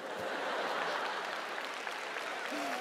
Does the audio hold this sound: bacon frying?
no